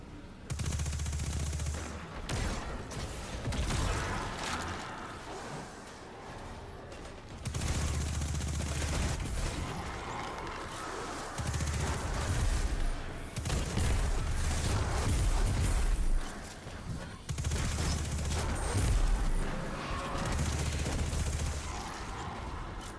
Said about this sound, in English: this gun's pretty good, the Recluse